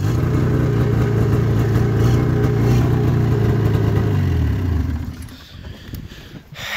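A 1991 Arctic Cat Prowler 440 snowmobile engine runs up close and loud with a steady droning buzz, then drops off to a rougher, quieter idle near the end.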